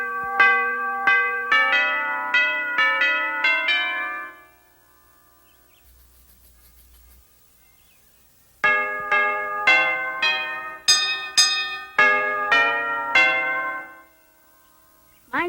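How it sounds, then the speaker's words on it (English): A doorbell chimes a bright, bell-like melody of quick repeated notes for about four seconds, goes quiet, then plays the tune again loud and close before stopping. "All you have to do is listen to the doorbell"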